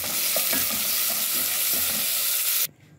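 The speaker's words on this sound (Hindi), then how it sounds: "और प्याज को आपने सोटे कर लेना है" Chopped onion sautéing with golden garlic in a pan gives a loud, steady sizzle with scraping stir strokes, then cuts off abruptly near the end.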